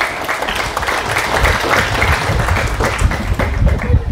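Audience applause at an Islamic talk, a loud dense burst of clapping from a large crowd, sustained and close for the whole stretch with no talking over it.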